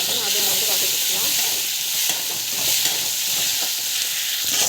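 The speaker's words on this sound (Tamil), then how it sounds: "டமாட்டா பார்த்திங்கன்னா அதை வந்து வதக்கிக்கலாம்." Tomatoes sautéing in a pan for upma give a loud, steady sizzle and frying hiss with faint stirring scrapes, close and continuous, with no talk.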